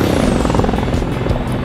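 A helicopter in the video game Squad, with a loud, close, continuous rotor thump and engine roar filling the whole short stretch.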